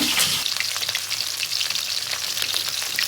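Sliced onions fry for beresta in a pan on a clay stove, giving a steady, close, crackling sizzle that holds at an even level throughout, with no voices.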